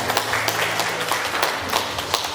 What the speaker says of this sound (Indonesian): Boleh kita kasih tepuk tangan buat Allah kita.